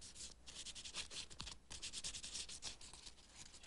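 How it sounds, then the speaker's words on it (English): Hand sanding of primer on a chaise lounge, a soft, quick back-and-forth scratching rasp in close, continuous strokes, quiet but clear. "Okay, sanding down the primer."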